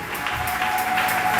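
A church congregation applauding at a worship night, a dense, steady wash of many hands clapping with rhythmic pulses, loud and sustained throughout.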